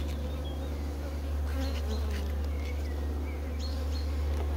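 Honey bees working inside a wooden hive box hum in a steady, close buzz, with a few individual insects droning past near the ear and faint outdoor chirps behind.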